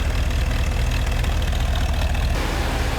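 A 1977 Mercedes 450 SLC engine idles with an idle problem, giving a steady low rumble with a slightly uneven, knocking pulse throughout, close by and with no talk.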